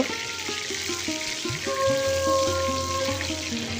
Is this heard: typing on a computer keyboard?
no